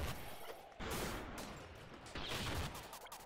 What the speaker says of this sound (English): Just keep spamming grenades at him.